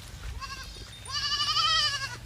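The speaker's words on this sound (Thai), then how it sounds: "โอ้โหนี่ครับแพะดิบ น่ารักมากครับแพะนี่นี่ครับ บรรยากาศฟาร์มแพะป้าน้อย" Crossbred Boer goats on a goat farm give two bleats, a short one and then a longer, louder wavering one, close by over a low background rumble, with no talk.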